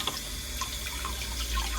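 Tap water running over a vinyl record in a sink, a steady close splashing stream with small gurgles as it hits the disc.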